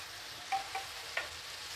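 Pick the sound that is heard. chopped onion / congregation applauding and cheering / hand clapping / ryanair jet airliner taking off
chopped onion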